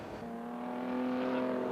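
Race cars accelerate hard out of a final corner at a motor race, engines howling loud and close with a steady rising pitch that climbs and swells toward the end, no voices over it.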